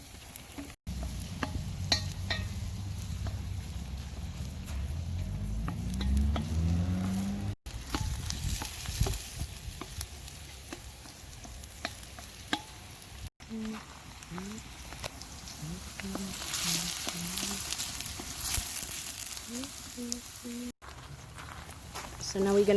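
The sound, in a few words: onion and garlic sautéing in oil in a cauldron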